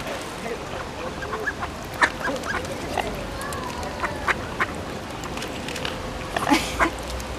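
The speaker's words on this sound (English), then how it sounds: "You're a big bird there, Swan, aren't you?" A swan gives short honking calls in an outdoor setting in Dublin, the calls scattered and fairly close, set against steady background noise and bird sounds.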